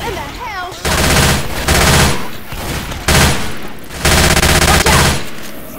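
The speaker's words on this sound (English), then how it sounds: "Try shooting some damn zombies." Automatic weapons fire in rapid bursts against zombies in Left 4 Dead 2, loud and close, with long sustained volleys broken by short pauses.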